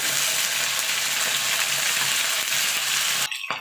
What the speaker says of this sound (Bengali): এবার আলুটাকে আমি লাল লাল করে ভেজে নেব